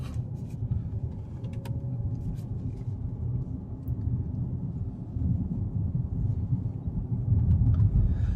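Cabin of an Audi e-tron Prestige electric car while driving: a steady low road rumble and hum fill the interior, growing slightly louder toward the end, with faint high whirring tones above.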